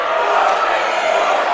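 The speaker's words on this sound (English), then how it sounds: "Crowd not happy." A high school boys basketball crowd voices its displeasure after a foul call, a brief, dense wash of loud, overlapping shouting and murmuring in a gym.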